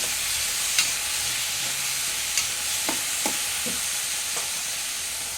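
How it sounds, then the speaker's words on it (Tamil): Chopped tomatoes fry for a tomato mint chutney, a dense, even hiss of sizzling oil with occasional light clicks and scrapes of stirring. "தக்காளி ரெண்டு பெரிய தக்காளி அரிஞ்சு வச்சுருக்கோம் இதையும் இதுக்கு கூட சேர்த்து கிண்டி விடணும்"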